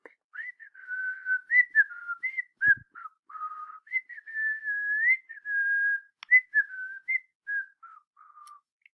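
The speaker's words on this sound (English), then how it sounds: "He whistled all the way there, and he whistled all the way home." Someone whistles a lively, wandering tune in short melodic phrases and sustained notes, clear and close, with brief pauses and a single soft knock partway through.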